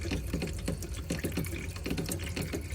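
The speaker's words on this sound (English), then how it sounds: "pull the hot water through on your tap" Hot water runs from a tap in a motorhome, a continuous splashing gush into a sink with gurgling, sputtering bursts that suggest air in the line, fairly close and with no talk.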